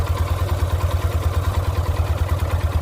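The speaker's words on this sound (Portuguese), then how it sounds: "A moto mantém um giro bem baixo. Vocês podem ver, fica a 1200 ali giros mais ou menos." A 2016 Yamaha Fazer 250 motorcycle idles at low revs with the microphone held close to the engine. It gives a steady, loud, throbbing low thrum with a fast, even pulse and a light mechanical clatter on top, and no voices are heard.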